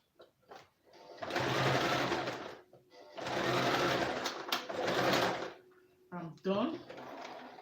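A sewing machine stitches fabric in two long, fast, steady whirring runs with a short pause between them, followed by clicks and a brief mechanical rattle, heard close up while a person talks over parts of it.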